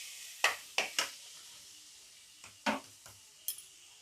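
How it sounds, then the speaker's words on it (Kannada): Spices such as pepper and asafoetida frying in a pan for capsicum and cabbage fried rice: sharp, separate clinks and scrapes of a utensil against the pan over a faint, low sizzle, about seven knocks in an irregular rhythm. "ಹೀಗೆ ಹುರಿಯಿರಿ."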